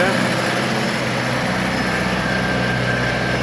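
New 2023 Shifeng SF404C four-cylinder tractor with forced hydraulics idles with a steady low rumble that continues evenly and close by, with no talking.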